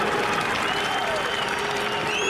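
A large crowd at a V8 Supercars race at the Darwin Triple Crown applauds and cheers in a continuous roar, steady and full, with a commentator's voice faintly threaded through.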